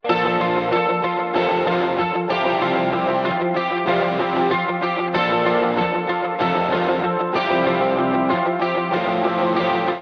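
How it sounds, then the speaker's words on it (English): Chugging palm-muted electric guitar with overdrive and a shimmering chorus, steady eighth-note rhythm played loud and up close, no voices. "we have one guitar playing palm muted eighth notes to help add to the rhythm of the song"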